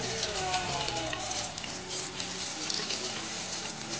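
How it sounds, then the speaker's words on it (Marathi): Butter-coated bread slices fry on low heat, giving a steady, close sizzle with faint crackle and patter that runs unbroken throughout. "ब्रेड चांगला असा कव्हर करून घ्यायचा बटरने। मंद आचेवर करायचे सर्व, फ्राय करायचे मंद आचेवर।"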